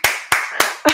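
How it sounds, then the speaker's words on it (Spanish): An audience in a Spanish-language talk-show setting applauds to welcome a guest: four sharp, loud, evenly spaced claps close to the microphone, each decaying quickly, with no talking between them. "la vamos a presentar con un fuerte aplauso y ella también va a aplaudir"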